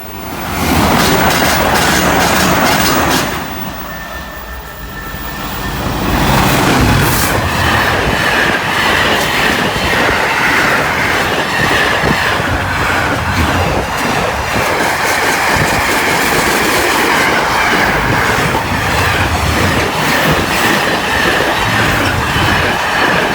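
The Flying Scotsman train rumbles past close by at a level crossing, loud and continuous, with rhythmic clickety-clack of wheels and some metallic squeal; the noise dips briefly early on.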